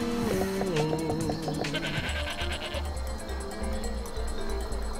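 Goats bleat in the video game Guacamelee!, a run of wavering cries at the start over a layer of game music and effects that carries on for the rest.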